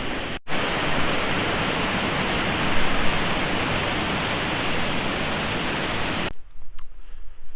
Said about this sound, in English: So these are the Lynn Falls.